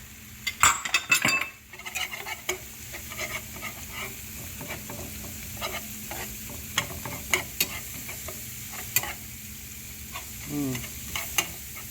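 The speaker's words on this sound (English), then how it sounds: "and then we're going to whisk it together" Flour is whisked into a roux in a pan, with a burst of fast metal whisk clatter against the pan at first, then lighter scattered taps and scrapes over a soft sizzle.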